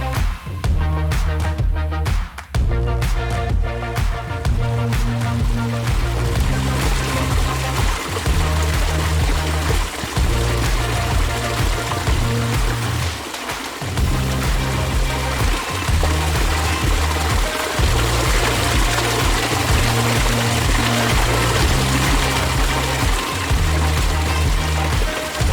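A large pondless waterfall pours and splashes continuously up close, a dense, steady rush of flowing water lasting throughout, with a faint rhythmic mechanical pattern underneath and no talking.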